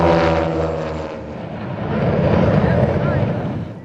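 Northrop N9MB Flying Wing propeller aircraft flying, a loud close propeller drone with strong harmonic buzz that swells and shifts as it passes, with someone speaking over it.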